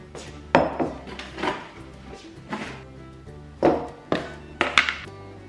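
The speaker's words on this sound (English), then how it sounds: "We need to beat the butter and sugar in a bowl" Butter and sugar are beaten in a bowl, giving irregular clinks and knocks of a utensil against the bowl, close and fairly quiet, with a few sharper taps standing out.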